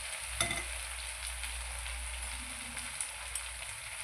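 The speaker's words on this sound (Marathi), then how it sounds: "आता आपला कांदा आणि शिमला मिरची शिजलेली आहे" Onion and capsicum sizzle steadily while frying in a pan, a soft, constant crackling hiss close by, with a few faint stirring clinks and no voices.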